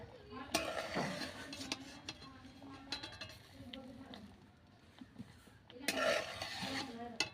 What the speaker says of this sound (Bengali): আমি এখানে আলুগুলো থালার উপরে তুলে নিচ্ছি।